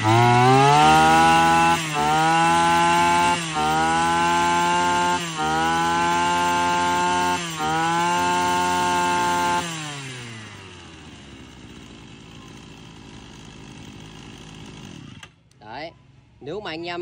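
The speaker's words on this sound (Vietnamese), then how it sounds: "Giật test nổ cho anh em nghe qua này." A large-bore brush cutter's small two-stroke engine runs loud and close. It revs in repeated high bursts, each followed by a brief dip, then drops to a quieter idle with a few clatters near the end.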